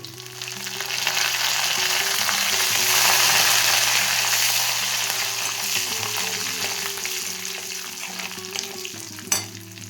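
Curry leaves frying in hot oil for a vegetarian chickpea kuzhambu, a loud, steady sizzle and crackle close up with faint background tones and a sharp pop near the end.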